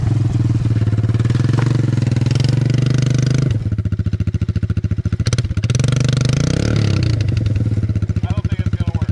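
A four-wheeler ATV engine runs loud and close as it pushes onto packed spring snow, with a rough, pulsing idle that revs and labors in uneven bursts.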